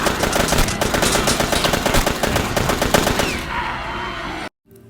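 Rapid automatic gunfire from a vampire movie, dense bursts of close, loud shots rattling for several seconds, then thinning into a lower rumble before a sudden cut to silence.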